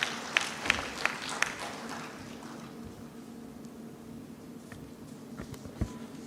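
Audience clapping at a national development policy forum, a few sharp claps near the start and then soft, scattered applause fading under room noise, with a faint voice in the background.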